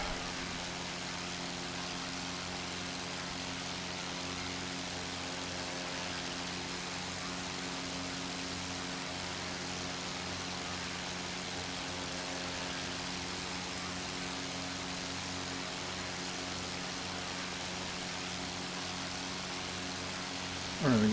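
Aircraft engine in Microsoft Flight Simulator 2024 over the Grand Canyon, a steady droning hum with tonal layers holding at an even level throughout, with no speech.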